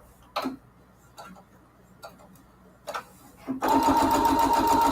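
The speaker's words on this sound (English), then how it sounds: "And then we sew on the back." Sewing machine stitching fabric for foundation paper piecing: a few soft taps and clicks, then the motor starts into a loud, steady whirring run of fast stitches close by.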